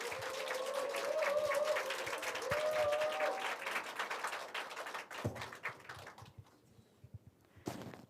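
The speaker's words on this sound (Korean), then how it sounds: "따뜻한 박수로 맞아주시길 바랍니다" An audience of teachers at an academic conference applauds, the clapping steady and fairly close for about five seconds before breaking off into scattered taps and quiet, with a brief final burst near the end.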